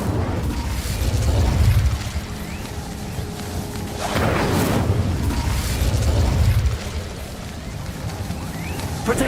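A fire-casting Incendio spell in the fantasy action game Hogwarts Legacy bursts out as loud whooshing flame blasts with low rumbling booms, repeated in surges over a noisy combat background.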